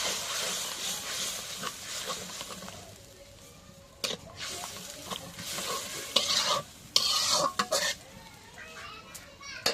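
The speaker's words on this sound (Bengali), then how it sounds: "এখন মশলাগুলো একটু নাড়া দিয়ে দিই।" Cumin and garlic paste fry in a pan while being stirred: a close, hissing sizzle with scraping strokes and clattering utensil knocks, irregular and loud in bursts, with faint background voices.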